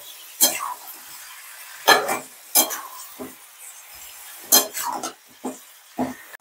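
Ginger, garlic and green chili paste being stirred and fried with mutton, with sharp scraping strokes of a spatula against the pan coming in irregular bursts over a faint background sizzle.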